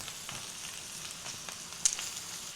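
Flour cooks in a pan for a cottage pie, a soft, steady sizzle with faint intermittent stirring scrapes and one sharper clink near the end, all fairly quiet.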